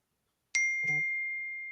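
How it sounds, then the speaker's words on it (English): A phone notification chime rings out as a single bright ding with a long ringing tail, set against otherwise near silence, with a brief voice sound just after the strike. "Ding, ding. Yeah, my phone is going off."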